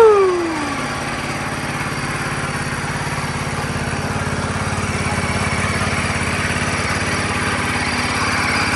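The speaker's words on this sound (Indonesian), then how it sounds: "suara mesin motornya yuk. Mari kita nyalain." A Ducati DesertX motorcycle engine starts with a rising starter whine, then settles into a steady, loud, close idle that runs evenly to the end.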